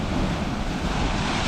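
Heavy North Sea surf pounds the Scottish coastline in rough weather, a dense, steady roar of crashing water close by, mixed with gusty wind noise on the microphone.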